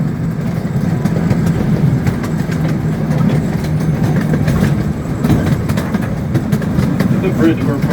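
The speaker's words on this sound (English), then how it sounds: "Train today is being pulled by a 1/3 scale replica of the CP9 train that was built in 1863." Narrow gauge train pulled by a 1/3 scale replica of the 1863 CP9 locomotive rumbles steadily with a loud, continuous low drone and rattling, heard up close from aboard, with voices faintly mixed in.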